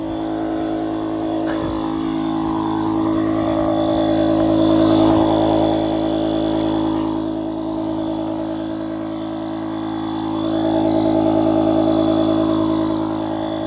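An electric air pump inflates a waterproof inflatable tent, running as a steady, loud motor drone with a slowly swelling pitch and volume throughout, alone with no talk.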